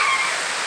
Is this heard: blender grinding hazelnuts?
no